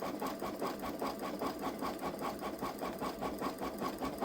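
A Baby Lock Solaris embroidery machine stitches out letters on a T-shirt with a steady, rapid mechanical chatter, its needle beating in an even rhythm close up and without talk.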